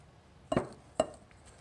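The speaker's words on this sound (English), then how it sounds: "So I'm actually turning the bowl, and the butter will get stuck to the pastry blender" A pastry blender works butter into flour in a metal bowl for muffins, giving two short scraping clinks about half a second apart, fairly close and alone, with a quiet pause between them.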